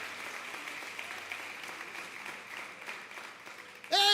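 A church congregation applauds during an evening communion service, steady moderate clapping from the crowd that ends as a voice starts speaking.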